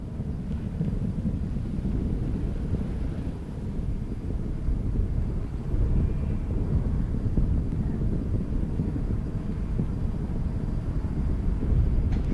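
Space Shuttle Discovery's rocket launch roar carries as a deep, continuous low rumble from far away, steady and unbroken throughout with no talk over it.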